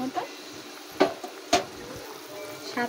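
Pointed gourd curry being stirred in a pan, with a soft simmering sizzle underneath and a few distinct scrapes and clinks of the spoon against the pan, close up.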